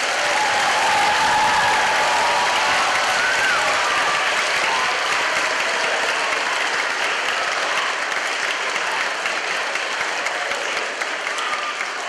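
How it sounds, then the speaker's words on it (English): A school assembly audience of children and teachers gives a big round of applause, loud, dense and sustained, slowly tapering toward the end. "So can we offer them a big round of applause?"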